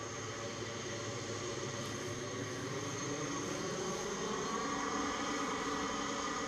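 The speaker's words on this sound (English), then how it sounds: "767-300 extended range takes its way back to Atlanta, USA." A Boeing 767-300ER jet taking off from Edinburgh Airport, heard as a faint, distant, steady roar with a broad hiss that holds throughout.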